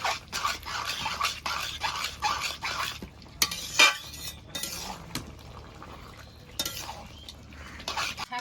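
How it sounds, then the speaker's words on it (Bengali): Cooked pumpkin greens and potato are stirred in a pan, with repeated scraping and clinking strokes in an irregular rhythm at close range and a faint sizzle underneath. "শাকটা ভালো করে ঘেটে নিয়েছি"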